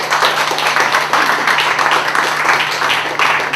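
An audience at a spoken word poetry event breaks into steady, loud applause and clapping, a dense wash of many hands that fills the room without pause.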